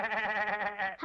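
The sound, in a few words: cartoon voice imitating a sheep bleating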